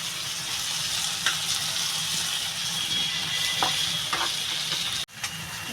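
Prawn heads sizzle in hot oil in a wok, a continuous close frying hiss with faint stirring clicks and a sharp knock near the end.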